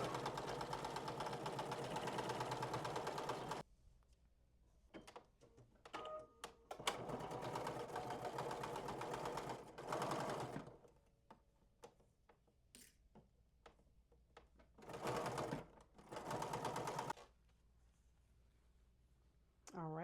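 A sewing machine stitches fabric in loud, steady bursts of rapid mechanical whirring. Each run lasts a few seconds, with quiet pauses and small clicks between runs.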